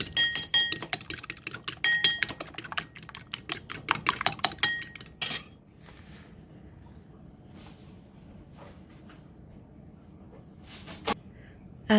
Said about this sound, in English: In another bowl, crack one egg and whisk it.